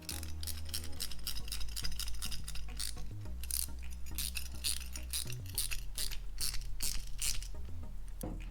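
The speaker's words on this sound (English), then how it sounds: "Maybe go at this the old school way with just a couple ratchets." Ratchet wrenches tighten bolts on a truck bed rack, producing rapid clicking pawl bursts in quick repeated runs, close and clear, with a low steady hum underneath.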